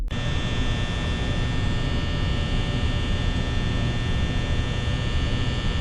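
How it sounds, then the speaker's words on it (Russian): A constant electric fan drones in an office in Five Nights at Freddy's, a steady, even hum with a faint high whine that never changes in level, heard alone with no talk. "благодаря вентилятору вы буквально находитесь в постоянном шуме"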